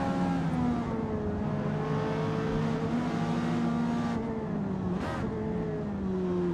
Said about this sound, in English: Both 917Ks sound like a flat 12.